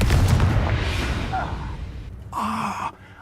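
Confringo fire spell blast in the video game Hogwarts Legacy, a loud burst with a sharp whooshing flare that breaks through dense rumbling battle noise, then cuts off abruptly near the end.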